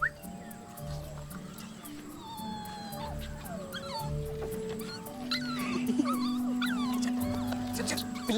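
A puppy whimpers and yips repeatedly in high, wavering cries, with muffled voices and background noise underneath.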